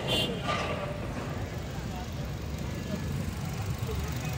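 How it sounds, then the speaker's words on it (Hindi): A car's radiator cooling fan spins at low speed in the engine bay of an overheating car under repair, giving a steady, even whirring rush that holds unchanged for the whole stretch. "लो स्पीड के ऊपर फ़ैन बिल्कुल प्रॉपर चल रहा है"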